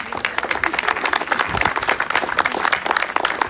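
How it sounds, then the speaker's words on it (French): An audience at an energy conference applauds a former colleague named Greg, with dense, steady clapping filling the room from start to finish and a faint voice or two mixed in. "on applaudit Greg"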